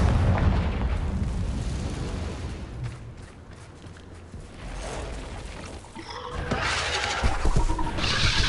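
A Confringo spell blast in Hogwarts Legacy: a series of low, rumbling booms and bursts rolling through the scene, louder near the start and again toward the end.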